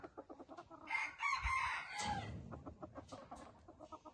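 Red decoy rooster crowing amid steady clucking, a drawn-out strained crow rising over rhythmic clucks from close by, fairly faint and with no voices.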